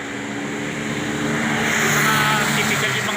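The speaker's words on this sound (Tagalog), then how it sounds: "Grabe naman yung motor na yun" A motorcycle passes near a country farmhouse, its engine a steady loud drone that swells slightly as it goes by, with some talking in the background.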